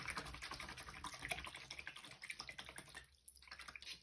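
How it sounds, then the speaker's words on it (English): A watercolor paintbrush is rinsed in a water container, with quick, close swishing, dripping and tapping that fades briefly near the end. "Rinse that brush."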